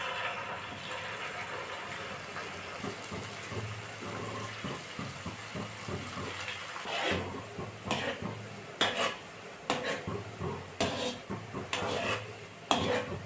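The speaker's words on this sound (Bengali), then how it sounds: "এবার ভেজে নেব সবগুলোকে" Shaped dough pieces dropped into oil in a kadai, a soft continuous sizzle under scattered metal clinks and scraping that grow busier and louder toward the end.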